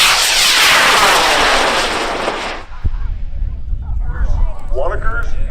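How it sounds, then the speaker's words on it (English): An Aerotech J315 red motor high power rocket lifts off at a large rocket launch event, a loud roaring blast that sweeps down in pitch and fades after about two and a half seconds, followed by distant crowd noise and talk. "It's going to fly an Aerotech J315 red motor. Skies are clear. Karen, your rocket's going up."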